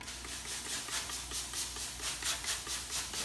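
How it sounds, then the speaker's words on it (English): Rhythmic bursts of steam hiss from water sprayed into a hot oven rise and fall, roughly two or three per second, fairly quiet against a low background hum. "Adds a bit more steam into the oven."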